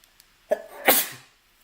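A single sneeze in a Final Fantasy VII PS4 game session, a sharp intake followed by a loud burst, heard alone and close.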